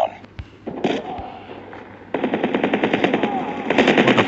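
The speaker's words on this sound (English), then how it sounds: "Don't shoot me with your freaking cursed weapon." Rapid automatic gunfire in the Call of Duty Mobile shooter game, a sparse shot or two then a sustained fast rattle of repeated shots growing louder toward the end, with no talk over it.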